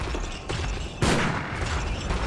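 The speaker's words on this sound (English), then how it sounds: "Here's a Reiter Palach gunshot." A Reiter Pallasch gunshot in Bloodborne: one sharp, loud blast about midway, thick with noisy crackle and set in a dense, constant game soundscape.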